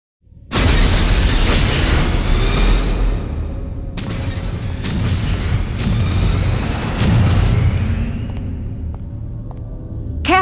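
Explosions in the PlayStation Brahma Force game as a gate lock is destroyed: a sudden heavy boom opens into a sustained loud rumbling roar, with further blasts and sharp metallic hits layered through it and no voices.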